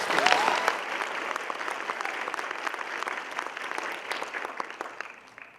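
An audience applauds all-state high school singers at a high school spring concert, dense clapping filling the hall and slowly tapering, with a brief cheer near the start.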